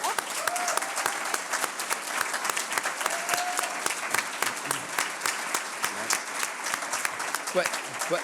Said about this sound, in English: Let's give him a round of applause, shall we?